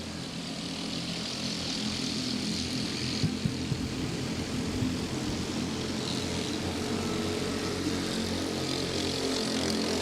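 Three racing karts battle for third on a speedway oval, their small engines blending into a continuous, fairly distant buzzing drone that barely changes in level.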